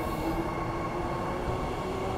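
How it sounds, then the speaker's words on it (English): A train rumbles steadily past at a station on a line between Redcliffe and Elizabeth Quay, loud and continuous with a faint high squeal over the roar and no talk. "Train."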